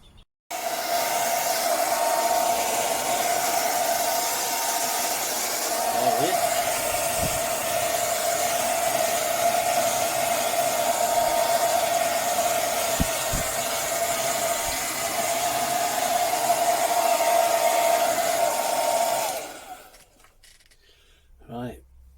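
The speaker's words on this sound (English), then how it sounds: "Right, onto the hairdryer." A hairdryer blows steadily on a fluffed-up fox tail, a continuous close whirring roar that holds for about nineteen seconds before it cuts off, with faint handling sounds at the end.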